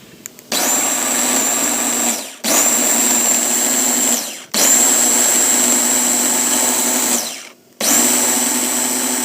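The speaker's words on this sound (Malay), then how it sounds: "So kita nak blend. Kita nak blendkan dia." A blender whirs loudly in several bursts of about two seconds each, blending boiled dried chilies for sambal paste, stopping briefly between runs, close by.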